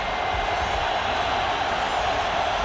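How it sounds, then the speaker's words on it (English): A college football stadium crowd roars in a steady, dense wash of cheering and noise during a 1992 Florida State at Miami game, loud and continuous throughout. "Crowd got into the ball game in a hurry."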